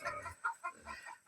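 Farm chickens cluck softly nearby in a quick series of short calls, fairly faint, with no talking over them.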